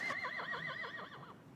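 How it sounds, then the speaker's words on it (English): A brumby, a wild Australian horse in the Snowy River country of NSW, lets out a single wavering whinny, close and clear, trailing off over about a second and a half. "A brumby is a wild horse of the Australian country."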